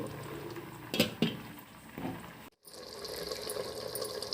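Chicken biryani gravy bubbling in a pot, a steady boiling hiss with a few louder knocks and clatters early on, a brief silent gap, then a continuous simmer.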